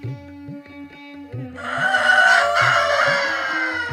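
Hens and a rooster of New Hampshire and Black Australorp breeds: hens cluck in a steady rhythmic pattern while the rooster crows loudly partway through, the crow drawn out and close.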